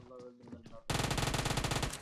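Sustained automatic gunfire from a PUBG Mobile firefight, loud, rapid and evenly rhythmic, bursting in after a moment of quieter game sounds and continuing to the end.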